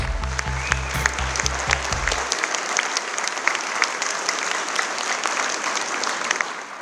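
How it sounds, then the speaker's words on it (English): A room full of people applauds at a middle school dedication ceremony, steady dense clapping that runs throughout, with a low rhythmic thumping under the first couple of seconds. "Let's give it a round of applause"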